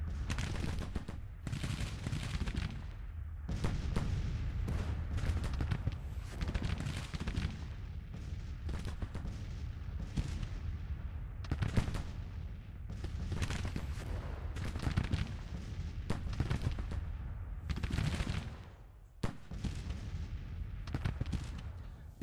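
Dense volleys of musket and artillery fire roll on without pause in a Grand Tactician: The Civil War battle, layered crackling shots and booms at steady loudness, with a brief lull near the end.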